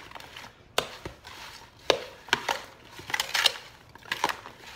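Fruit salad is stirred with white sugar, producing irregular knocks, taps and scrapes against the bowl, close up and spaced unevenly, with no voices.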